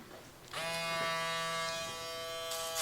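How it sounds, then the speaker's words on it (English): An electric foil shaver switches on and buzzes steadily up close while trimming a beard, a bright humming whine that shifts slightly as it moves. "So now I'll be using the UV foil shaver."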